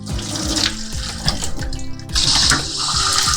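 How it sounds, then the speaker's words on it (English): Water gushes from a newly repaired kitchen faucet into the sink, a close, splashing stream that grows louder and brighter partway through, with hollow low gurgles beneath and no talking. "Water on, and let's check in the kitchen."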